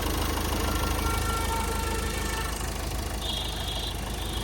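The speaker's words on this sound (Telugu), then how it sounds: "ఇంజను బీటింగ్ ఎట్లుందో ఒకసారి వీడియోలో చూసుకోవచ్చు" A 2019 Ford EcoSport Titanium diesel engine idles steadily and close, a continuous low rumble with a slight rhythmic knock and a faint high whine partway through.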